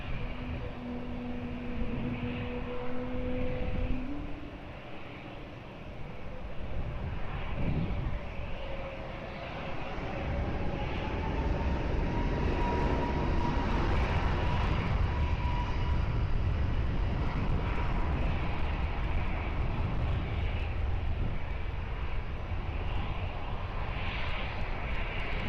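A jet airliner takes off on runway 20 at Lisbon Airport, its engine roar building into a loud, sustained rumble that swells steadily and holds through to the end, heard alone with no talk.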